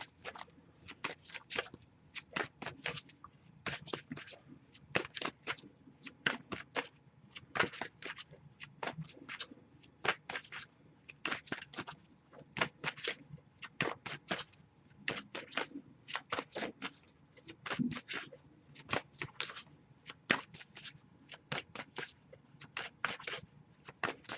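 Tarot cards are shuffled by hand in a quiet room, giving repeated quick riffling bursts in an irregular rhythm throughout, close and soft.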